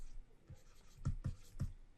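Pen writing math on paper, a few soft taps and strokes spaced out at close range, quiet and with no talking.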